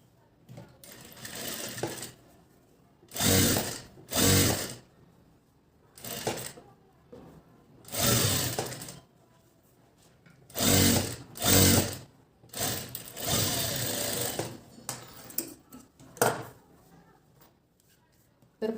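A sewing machine stitches the katori panel of a blouse, close whirring bursts of stitching that start and stop repeatedly, separated by quieter handling of the fabric.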